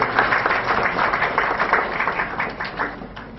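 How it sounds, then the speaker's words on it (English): An audience at a university event in Mauritius applauds a guest, a close, dense burst of clapping that gradually tapers off over a few seconds. "Please, a round of applause for our friend."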